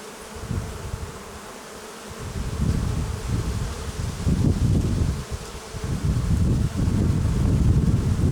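Honeybees buzz loudly in an opened two-compartment nucleus hive, a close, swelling drone with gusts of wind noise.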